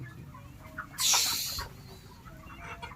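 A brief burst of chicken clucking and squawking in a poultry shed rises for about half a second over a low shed hum, then fades back to quiet murmurs.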